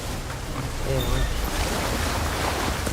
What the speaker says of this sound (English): Waterfall check.